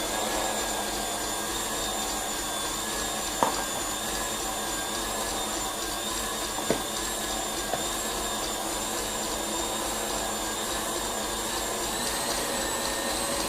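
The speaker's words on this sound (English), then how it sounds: "You usually can hear your mixer just change quite slightly, just as though it's trying to pull more on the motor as it gets thicker." A stand mixer whips meringue for macarons, a loud steady motor whine with a constant high hum running the whole way, and two brief knocks partway through.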